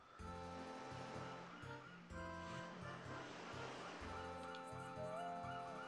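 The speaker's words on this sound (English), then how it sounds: "Now, we hear water through our headphones." Gentle water and surf wash from the Paper Mario video game, a steady ocean bed laid under layered game music, continuous and moderately loud for the whole stretch.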